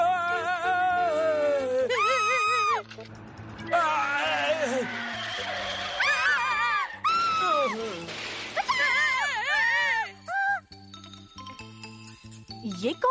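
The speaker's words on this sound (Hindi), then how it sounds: "ये कौन चिल्ला रहा है?" A cartoon character in Ninja Hattori lets out repeated long wailing screams that rise and fall over jingling effects and music, with other voices speaking between them.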